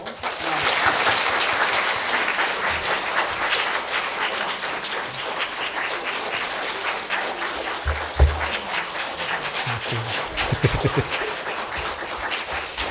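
A church congregation at a Sunday service in Korea claps loudly and steadily, dense applause filling the room from start to finish, with a few voices mixed in beneath it.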